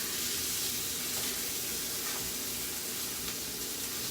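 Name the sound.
sausage and onions frying in a pan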